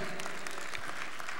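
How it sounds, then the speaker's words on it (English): A church congregation claps its hands in praise, a steady dense burst of applause that fills the whole moment. "Can somebody give God a hand clap of praise for that?"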